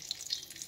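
Cold water running and splashing over lightly browned fried paneer in a village kitchen, a steady faint hiss of pouring liquid with small drips, heard alone.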